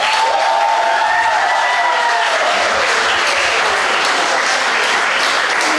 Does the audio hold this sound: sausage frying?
no